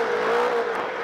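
A Polaris RZR RS1 side-by-side's engine is held at full throttle off-road, a loud steady high-revving drone that rises slightly in pitch and then holds, with no voices.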